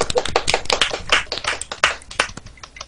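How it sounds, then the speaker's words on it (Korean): A small group claps together for about three seconds, with brisk, uneven hand claps close by and no voices over them. "박수"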